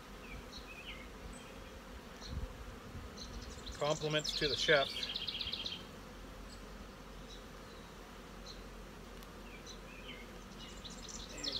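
A low buzz of honeybees at a hive hums steadily throughout, with a brief burst of speech partway through and a sharp whirring flutter near the middle.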